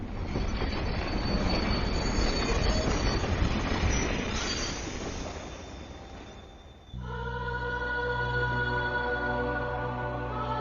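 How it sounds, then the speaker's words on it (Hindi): A train pulls into a station with loud, rumbling wheel noise, then its brakes squeal and screech steadily as it slows, with no speech. "इस ट्रेन को भी इसी वक्त आना था, मेरी नींद खराब करने"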